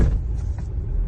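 A Tata car rumbles and shudders over a speed breaker: a loud, continuous low-pitched vibration that stays close and steady with no voices.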